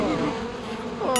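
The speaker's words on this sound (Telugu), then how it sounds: "ఇందులో చాలా తేనెటీగలు ఉన్నాయి." Bees buzz steadily in an animated cartoon, a continuous close-up insect drone with no talk.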